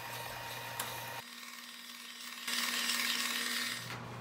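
Sandpaper rubs against a hand-carved wooden spoon, with close, scratchy strokes that stop briefly and then return in a louder, harsher burst.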